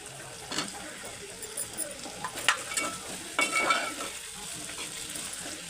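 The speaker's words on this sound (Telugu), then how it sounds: "కొద్దిగా లైట్గా పొటాటో ఉడికిందాక కొద్దిగా వేయించుకుందాం" Thinly chopped potato with curry leaves and green chillies fries lightly in a pan, giving a soft steady sizzle with several scraping stirs of a utensil, close by and with no voices.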